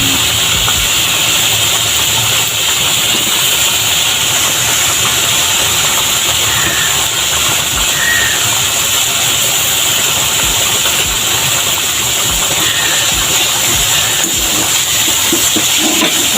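Tomatoes are tossed into a very hot pan of sizzling shrimp, giving a loud, continuous hiss and steamy crackle that stays strong for the whole stretch without any talking.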